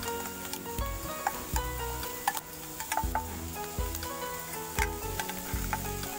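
Homestyle fried rice, with pre-boiled rice just mixed in, stir-fries in a pan with vegetables. It gives a steady close sizzle broken by repeated scraping stirs and soft thumps, with no talking.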